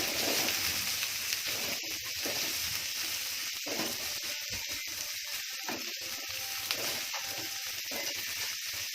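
Sliced red shallots sizzle in hot oil in a pan, a steady loud hiss broken by scraping stirring strokes at irregular intervals, with no talking.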